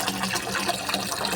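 Water runs into a bucket being filled for watering plants, a steady close splashing and gushing that is moderately quiet and continuous.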